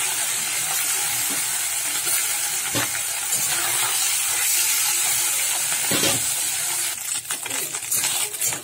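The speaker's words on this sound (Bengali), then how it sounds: "চিংড়ি মাছ ভাজছি, তেলের মধ্যে দিয়ে দিলাম ভাজার জন্য" Prawns frying in hot oil in a home kitchen, a steady close sizzle and crackle running throughout, with a few sharp pops and clatters of utensils and no talking.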